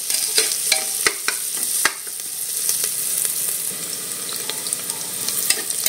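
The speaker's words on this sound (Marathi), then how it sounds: "कांदा पण चांगला परतून घ्यायचा।" Chopped onion sizzles steadily in a hot pan while being sautéed for dal khichdi, with close, sharp scrapes and knocks of a spoon stirring against the pan.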